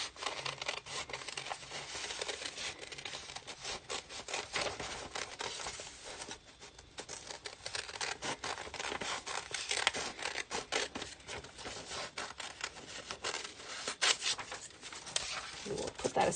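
Repeated crisp snips and rustling close by, like scissors cutting through paper in short bursts.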